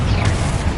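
A Confringo blast spell from Hogwarts Legacy detonates as a sustained, loud, low rumbling boom with no clear onset, filling the whole moment without any talk.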